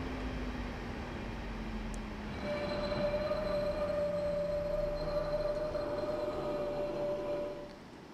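A Class 444 EMU electric train braking in Train Simulator 2015 on the Portsmouth Direct Line, with steady rumbling motion, then a sustained high brake squeal that swells and fades as the train slows.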